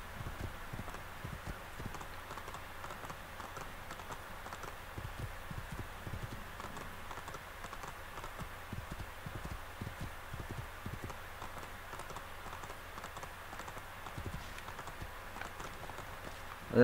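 Horse hooves gallop in Assassin's Creed 2 as a continuous quiet patter of clip-clop beats under low background noise, with no talk.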